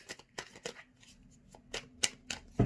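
Tarot cards are shuffled and cut in a quick series of crisp riffling snaps and flicks close to the microphone, with no talking.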